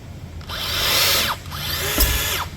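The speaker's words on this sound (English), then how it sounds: "when it swages, it takes that thing and crushes it down onto that fastener" A Makita BV-17 pneumatic tool with a 99BT M12 CRBV nose swages a collar onto a fastener pin in two close, loud bursts of whirring and crushing, with a sharp clack between them.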